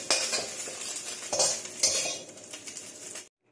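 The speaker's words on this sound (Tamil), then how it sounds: "இப்ப முட்டையை நம்ம இது போல பொரிச்சு எடுத்துக்கலாம்." Egg frying in oil in a pan for Singapore-style bee hoon goreng, a busy crackling sizzle mixed with clinks of a metal utensil against the pan, loud and close for about three seconds before stopping abruptly.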